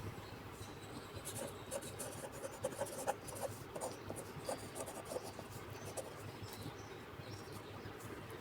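Chalk or marker scratches across a board during a Class 6 math lesson on LCM, a quiet stream of short, rhythmic strokes and taps over a faint room hum.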